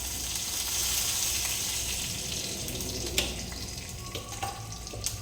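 Steady hiss of hot oil with scattered sharp pops and crackles of mustard seeds and cumin, a few louder spits near the end, no voices.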